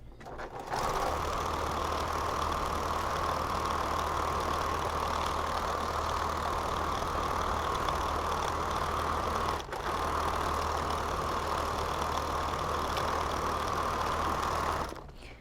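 A sewing machine stitches a bag seam at a 3/8 inch seam allowance, a continuous even hum and rapid needle clatter running nearly the whole time with one brief hitch midway.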